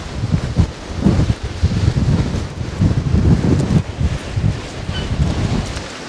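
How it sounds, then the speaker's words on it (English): Strong storm wind gusts roar and buffet steadily while fishing, rising and falling in a low, rumbling rush with no voices. "Wow, that wind is gusting. Absolutely gusting."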